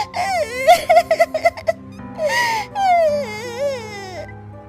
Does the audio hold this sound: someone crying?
yes